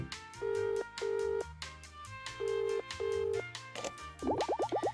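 A telephone call in the video game Escape from Ever After: electronic ringing tones sound in short repeated bursts, then a quick springy warble at the end, with soft game music underneath.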